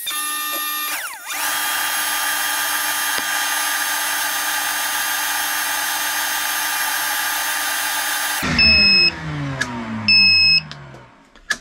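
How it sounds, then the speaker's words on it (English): A heat gun and a good-size shop vac run together from an inverter on a 12V 200Ah LiFePO4 battery, giving a steady, loud motor and blower drone that abruptly drops away into wavering, fading tones. "So now I have a heat gun, the inductive load on the small motor, and a good size shop vac."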